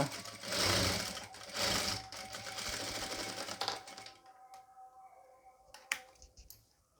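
A sewing machine runs steadily while stitching narrow piping onto a nighty, fairly quiet and close. It slows toward the end, giving way to a few faint clicks and handling taps.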